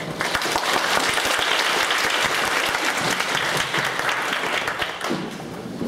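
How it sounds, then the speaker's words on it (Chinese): A lecture audience at a university gives a warm welcome to a speaker with loud, sustained applause of many hands clapping, steady throughout and easing slightly near the end. "我们是热烈掌声来欢迎江院长"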